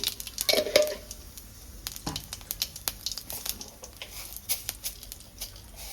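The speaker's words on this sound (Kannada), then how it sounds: "ನೆಕ್ಸ್ಟ್ ಇದನ್ನ ನಾವು ಫ್ರೈ ಮಾಡ್ಕೊಳ್ಳೋಣ. ಆಯಿಲ್ ಹಾಕೊಳ್ಳೋಣ. ಜೀರಿಗೆ," Cumin seeds crackle and sizzle in hot oil in a pan, with soft scattered pops and occasional stirring scrapes, fairly quiet and close, with no talking.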